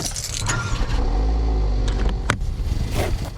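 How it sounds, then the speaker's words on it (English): A car engine cranks and turns over into a steady low idle, with a few clicks and rattles near the end. "When you start your car, it should sound something like this."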